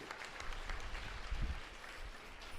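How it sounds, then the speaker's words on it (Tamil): Audience applause at a Tamil comedy debate stage event, a steady, fairly quiet wash of many hands clapping that holds evenly throughout. "தம்பி கிருஷ்ணசாமிக்கு நல்ல ஒரு முறை கைத்தட்டி"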